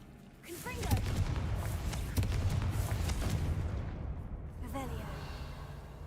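Confringo fire-blast spell cast in Hogwarts Legacy, a dense rumbling barrage of booming impacts and crackling bursts sustained for several seconds, with a voice speaking briefly over it.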